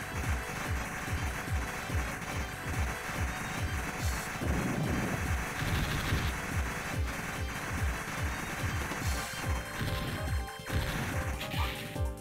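Rapid enemy gunfire in the arcade shoot-'em-up Sonic Wings Limited, a fast, steady stream of repeated shot blasts over continuous game music and effects, dense and loud throughout with no pause.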